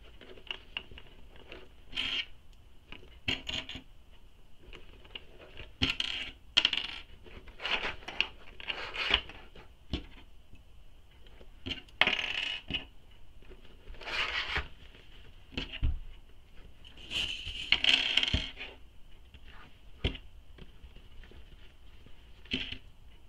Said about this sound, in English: Now it's time to make some snips in our curves, just within the seam allowance, and I'm just going between my clips.